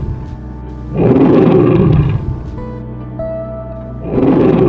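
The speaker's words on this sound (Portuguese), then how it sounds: "quando ouviu um rugido poderoso." A huge lion roars powerfully in a children's animated Bible story, two long, loud, deep roars separated by a quieter stretch.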